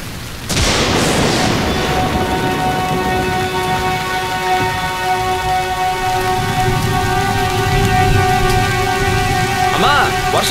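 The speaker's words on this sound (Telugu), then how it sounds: "వర్షం బాగా పడుతుంది" Heavy rain pours steadily and loudly on a surface close by, a dense continuous patter with no break, while a steady tonal hum runs beneath it.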